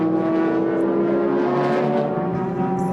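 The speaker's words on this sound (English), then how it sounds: "he just blasts that Lexus SC back out into the race" A Lexus SC race car at a Super GT race at Okayama accelerates out of the pit, a loud, steady engine drone with strong harmonic tones that holds level and rises slightly over a few seconds.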